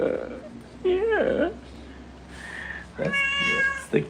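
A cat meows twice, close and drawn-out, with someone speaking around the calls.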